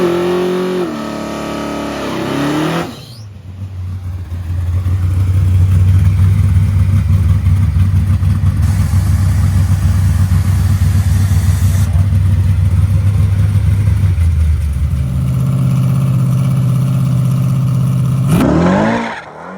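A car's engine idles, then roars up into a long, loud, sustained high-rpm run during a drag pass, holding strong for about twelve seconds before dropping off and fading at the end.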